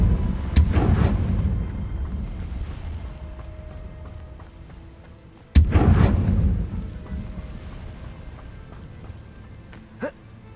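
Confringo fire blast spell cast in Hogwarts Legacy, heard as two loud booming blasts several seconds apart, each fading into a rumbling tail, with a smaller crack near the end.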